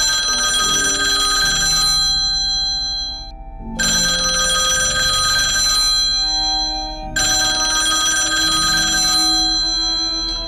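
A telephone bell rings loudly in three long bursts with short pauses between them, in a nighttime horror story setting; no voices are heard.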